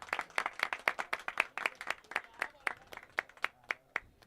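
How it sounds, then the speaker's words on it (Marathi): Audience applause at a village cricket match prize ceremony for the Shri Mangalmurti Cup 2025, a steady run of sharp, distinct claps from a small crowd, fairly close and alone with no talk over it. "एकदा जोरदार टाळ्या झाल्या पाहिजेत"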